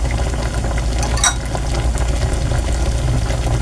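Ginataang saging na saba, saba bananas in coconut milk, simmers in a pot with a steady low bubbling and occasional soft stirring or clinks, continuous and close.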